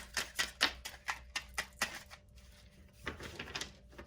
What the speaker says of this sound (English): These are so tiny, they're kind of hard to shuffle sometimes.